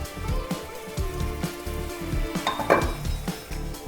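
Cooked lentils poured into a hot pan of spiced masala for dal makhani, giving a steady sizzle with a brief wet splash and bubbling partway through, close and moderately loud.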